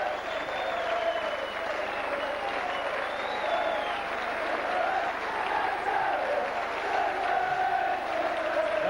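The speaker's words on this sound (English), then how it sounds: "you can just hear from the crowd thunderous applause and cheering" Thunderous applause and cheering from a big rugby league crowd at St Helens versus Bradford, a continuous dense roar of clapping with voices and shouts mixed in throughout.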